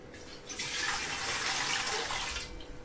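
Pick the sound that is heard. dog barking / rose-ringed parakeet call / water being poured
water being poured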